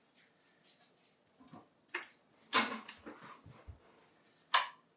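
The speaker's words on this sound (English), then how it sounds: "Had my dog trying to go outside there." A dog indoors in a home kitchen gives soft, scattered whimpers and small whines while wanting to go outside, faint and intermittent over a few seconds with brief louder yelps.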